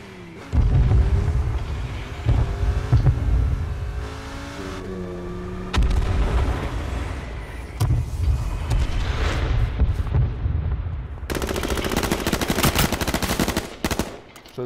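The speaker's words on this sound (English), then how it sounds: "Airstrike, airstrike." Airstrike blasts and gunfire erupt in H1Z1 Battle Royale, heavy booming impacts and rattling bursts of shots repeating loudly across the stretch, ending in a dense crackling barrage.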